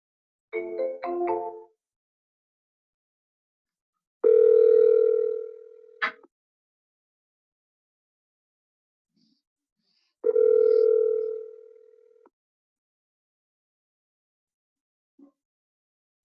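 An outgoing telephone call rings twice, each a long, steady tone of about two seconds followed by a pause, clear and isolated against silence, with a short burst of dialing-like tones at the start.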